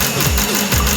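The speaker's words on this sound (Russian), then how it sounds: "Сейчас мы запустим режим имитации форсунок." Fuel injector cleaning stand for a Subaru Forester running in injector simulation mode, giving a steady mechanical hum with rapid rhythmic clicking and pulsing, loud and continuous with no talk.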